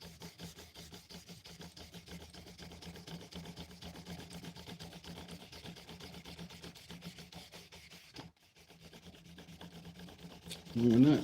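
Epoxy-coated wood being hand-sanded with 1500 grit sandpaper, a steady fine rubbing rasp in quick even strokes, close and fairly quiet, with a brief pause and a louder scuff at the end.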